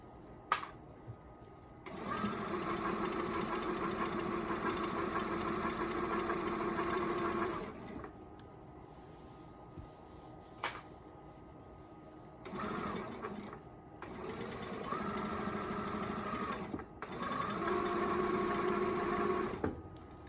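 A sewing machine stitching fabric at its top speed of 1,000 stitches per minute, a steady close whirring hum in long bursts, stopping and restarting several times with brief quiet gaps between runs.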